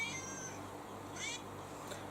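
A phone alarm tone imitating a meowing cat, with a few rising meow-like calls repeating at a moderate level over a steady background hum.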